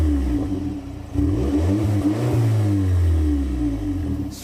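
A warm Volkswagen Polo 6 GTI engine is revved up several times close by, loud and throaty, with each rev rising and falling before settling back toward idle.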